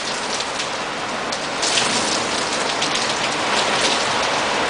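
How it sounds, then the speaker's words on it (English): Heavy rain pours steadily during a nighttime thunderstorm with frequent lightning and high winds, a loud, dense hiss of drops on surfaces that swells slightly partway through, with no voices. "now we have rain, heavy rain, frequent lightning."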